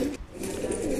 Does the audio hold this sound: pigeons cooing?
yes